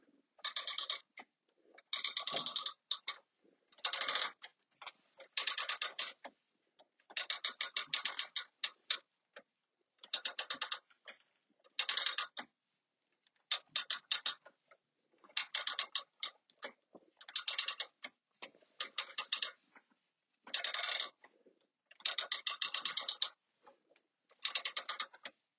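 A quilting machine stitches a quilt in short repeated bursts of quick mechanical ticking and whirring, each run separated by brief silences, close and fairly loud with no talking.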